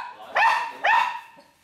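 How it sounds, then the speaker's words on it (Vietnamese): A dog barks fiercely at a family home in Vietnam, two loud, sharp barks close by in quick succession, followed by quieter fading sounds. "Chó này sủa dữ quá."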